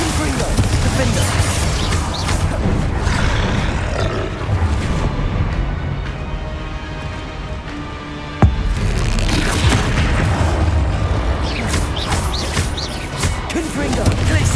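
Repeated booming spell blasts and magical impacts from wizard combat in Hogwarts Legacy, loud and dense throughout with a sharp hit midway, a voice calling out spell names over them.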